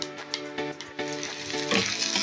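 Raw nigella seeds tossed into hot oil left from frying pabda fish, sizzling and crackling steadily with a few sharp pops and stirring scrapes, close and continuous with no talk.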